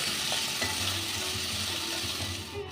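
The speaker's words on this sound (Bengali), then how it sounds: "এই টমেটোটা দিয়ে আরেকটু নাড়িয়ে নেব" Tomato is stirred into a pomfret fish curry in a pan, with a steady close sizzle and a few soft scraping strokes over a low hum, brief and with no voices.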